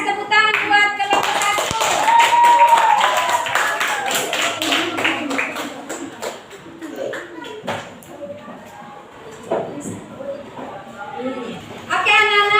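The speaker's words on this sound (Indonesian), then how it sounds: "tepuk tangan buat kelompok" Schoolchildren in a classroom clap for a group, a quick flurry of close, rapid hand claps mixed with voices, then tapering into scattered claps and chatter.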